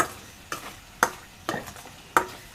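Broad bean chutney simmers in oil over a low flame, a faint steady sizzle broken by about five sharp spoon taps against the pan at irregular intervals.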